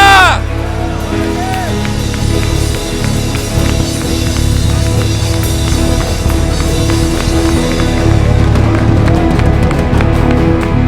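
A church congregation claps in praise during worship, a steady dense patter of hands mixed into loud, continuous voices and music filling the room.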